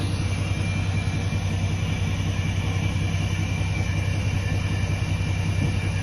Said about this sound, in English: Hissing you hear isn't the engine down. Yeah, that's actually the air blowing out of this tank reservoir